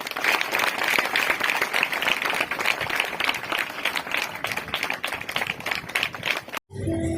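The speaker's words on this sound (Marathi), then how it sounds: "सर्वांनी टाळ्या वाजवायच्या." An audience at a school function in a government ashram school claps together in a dense, sustained burst of applause, close and loud, ending with an abrupt cut.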